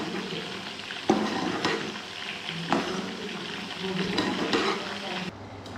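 Tomatoes with rice and a stock cube cook in a pan, giving a steady, close sizzle with occasional scraping and stirring bumps throughout.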